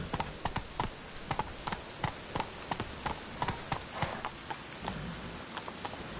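Roach, a horse in a video game, gallops in a steady, rapid clip-clop of hooves, evenly paced and fairly close throughout.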